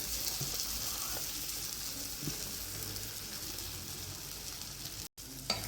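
Soaked idiyappam stirred into frying masala gives a soft, steady sizzle with faint scraping taps. It cuts out briefly near the end, then a light clatter follows. No one talks.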